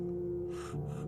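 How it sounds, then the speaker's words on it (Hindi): A girl out of breath after running gives one short, breathy gasp, close and fairly quiet. "एक मेरी क्लासमेट दौड़ते हुए आई और हांफते हुए बोली"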